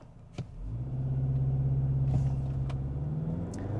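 A 2025 Hyundai Tucson with the 2.5L engine and AWD launches hard from a stop in Sport mode, its engine droning up into a steady, strained rising hum with road rumble underneath.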